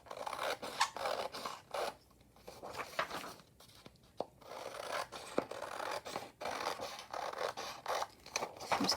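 Scissors snip and trim paper for a vintage French-style layered envelope junk journal cover, a close series of crisp scratchy cuts with brief pauses between strokes, quiet and without talk.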